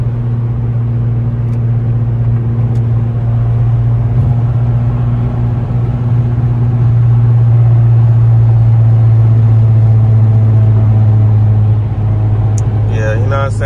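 A Nissan Altima SRT car's engine drones steadily from inside the cabin while driving, a loud constant low hum with a slight rise in pitch partway through and a few faint clicks near the end.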